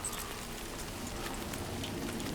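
Steady rain in the video game Death Stranding 2, a continuous even hiss of falling drops with faint scattered patters, moderately quiet and unbroken throughout.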